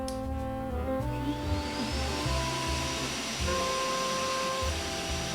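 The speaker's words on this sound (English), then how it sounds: "I have my fume extractor right here, ready to go. So I'm going to turn that on really quick." A fume extractor fan runs for soldering, a steady broadband whir with a faint rising whine as it spins up, continuous and close, no talking.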